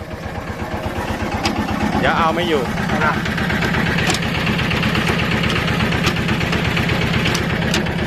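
An old Japanese Yanmar 11 hp walk-behind tractor engine chugs steadily and loudly at a fast, even beat, running without hard revving, while people shout over it.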